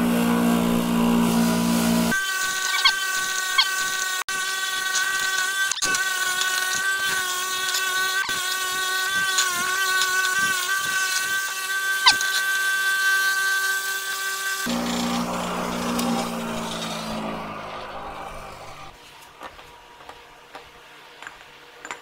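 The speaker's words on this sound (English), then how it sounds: "these will do a great job on that hammerhead that was over on the bench to clear some of the rust off" A power wire wheel spins against a rusty steel hammerhead, giving a steady, loud high-pitched whine with grinding scratches, then winds down and fades near the end.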